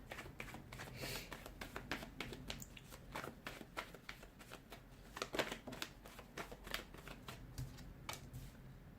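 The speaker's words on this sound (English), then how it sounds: "give the cards a shuffle, and let's begin." Rapid riffling and soft slapping of tarot cards being shuffled, repeated in quick bursts close to the microphone, with no talking.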